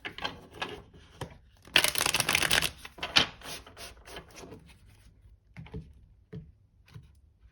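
Tarot cards riffle and slap together in a quick shuffle, close and crisp, with a brief louder burst followed by a few lighter taps.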